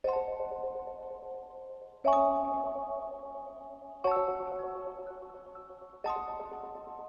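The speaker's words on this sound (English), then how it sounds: "I picked this Celeste Staccato Tape Echo preset" Four soft, bell-like synth celeste chords repeat at an even pace, each struck cleanly and left to decay dry and unadorned.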